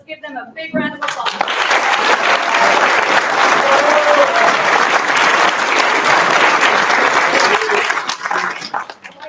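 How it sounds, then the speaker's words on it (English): Graduation audience applauding twelve apprenticeship graduates, loud sustained clapping that swells right after a brief voice and keeps going for about eight seconds before it thins out. "Let's give them a big round of applause."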